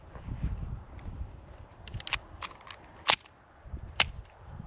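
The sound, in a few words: Taurus PT92 9mm pistol shots at a shooting range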